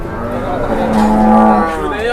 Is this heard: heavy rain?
no